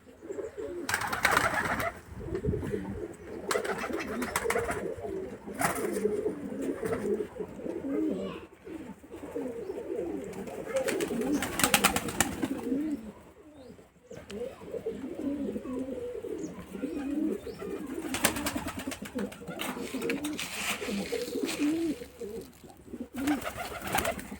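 Pigeons in a breeding loft coo and burble in a low continuous murmur, punctuated by occasional wing flaps and rustling bursts, moderately close with no talking.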